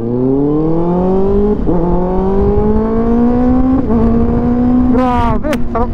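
A 2024 Kawasaki ZX6R motorcycle accelerates hard, its engine note climbing steadily through the gears with short dips at each shift, loud and close, ending in a sharp high rev.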